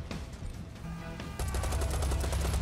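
Rapid assault-rifle bursts in a video game, loud and close, with the firing growing denser and heavier in the second half as shots overlap in a steady rattling stream.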